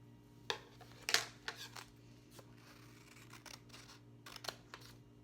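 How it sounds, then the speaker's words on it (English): Scissors snip through paper flower petals in a quiet room, with several short, close, crisp cuts coming in uneven bursts and small paper rustles between them. "I'm just going to use some scissors and cut them out."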